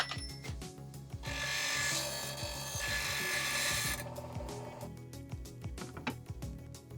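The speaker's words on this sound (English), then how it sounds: "To start with, I cut some M8 stud to length." M8 threaded steel stud being cut to length in a workshop: a loud, steady sawing burst of about three seconds, flanked by clanking and ratcheting handling noises.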